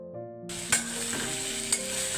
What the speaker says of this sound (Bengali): পুঁই শাক ভাজি করতেছি